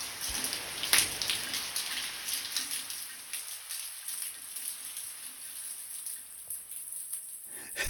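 Steady rain falls on a house during a solar panel installation, a dense continuous patter of drops with one sharper splash near the start, moderately loud and without voices.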